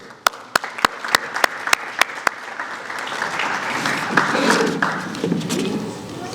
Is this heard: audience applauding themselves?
yes